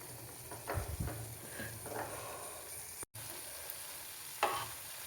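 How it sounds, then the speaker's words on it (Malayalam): Quiet stirring and scraping in a pan as tamarind water is stirred into curry paste for a Kerala fish curry, with a few soft swishes and faint sizzling, and no voices. "നമുക്ക് പുളിവെള്ളം ഒഴിച്ചു കൊടുക്കാം എന്നിട്ടൊന്ന് കലക്കിയെടുക്കാം"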